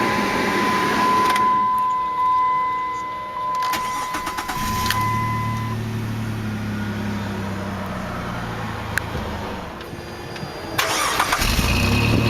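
A 2002 Jeep Liberty Limited with four-wheel drive cranks and starts, its engine settling into a steady idle close by with no talk, after a few seconds of high electronic tones and clicks.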